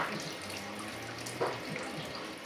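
Homebrew wort drains from a mash tun during an all-grain brew day, a faint steady trickle and splash of liquid running continuously, quiet and alone without talk.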